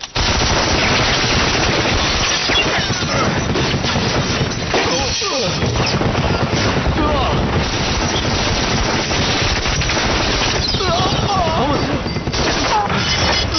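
Dense gunfire in a Dunkirk war-film battle scene, loud overlapping bursts and impacts with crashing debris throughout, shouted voices mixed in.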